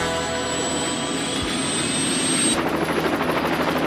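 A helicopter sits preparing for takeoff, its engine whining with a steady high tone and a dense rotor drone that shifts into a faster, pulsing beat near the end, loud and close with no talk.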